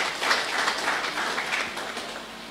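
An audience at a staff retreat and award ceremony applauds in a steady, moderately distant wash of clapping that fades slightly toward the end.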